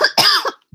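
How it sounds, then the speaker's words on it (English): A single sharp cough, close and loud, with a short second burst right after it, then silence. "I have these coughing fits"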